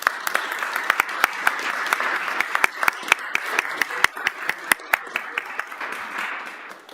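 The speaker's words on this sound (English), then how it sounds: "Let's give both of those honorees another well-deserved round of applause" Audience applause for honorees at a community Kwanzaa festival in Springfield, a moderately sized crowd clapping with distinct sharp individual claps standing out over the wash, fading near the end.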